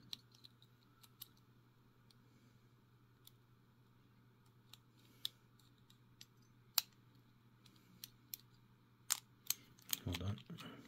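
Small metal pins click faintly inside a Federal PL90PE38-O padlock as it is picked, a scattering of sharp ticks over a steady low hum, ending in a brief cluster of louder rattles.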